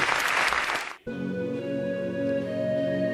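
Audience applause for contestant Manish Kumar from Bijnor at a televised singing talent show: a loud burst of clapping for about a second, then cut off as music starts.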